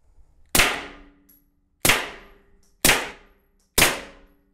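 Three sharp, loud gunshots from a handgun firing poly ammunition into drywall indoors, spaced about a second apart, each with a ringing decay, preceded by a fainter fourth report-like burst; no talking.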